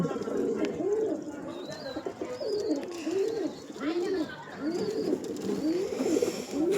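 Pigeons coo repeatedly in a home loft, including a green-necked racing-line bird, with soft rising-falling calls in a steady rhythm at close range, a few faint higher chirps above.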